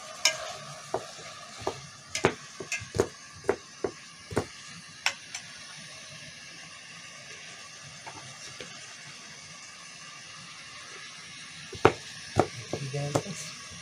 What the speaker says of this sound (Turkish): Sarımsaklarımızı da doğrayalım.